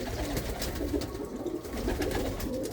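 Racing pigeons in a loft cooing, a continuous soft layered murmur of low throaty calls from several birds close by, with no talk.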